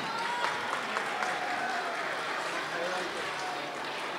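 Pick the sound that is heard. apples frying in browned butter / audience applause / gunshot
audience applause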